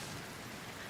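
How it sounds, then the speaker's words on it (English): Dense, even rain hiss in the video game Cairn, a short, faint burst of continuous wash with no voices. "And why would it start raining right now?"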